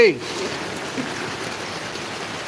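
Heavy rain pours down steadily in a broad, even hiss, close and continuous for the whole stretch after a brief sound at the very start.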